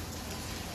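Rain patters densely and evenly on a car in a short steady wash of close drops, with no voices.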